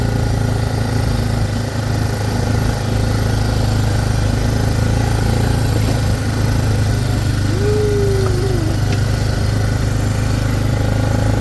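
A tractor engine chugs steadily and loudly throughout, a constant low drone close by, with a brief higher squeak partway through.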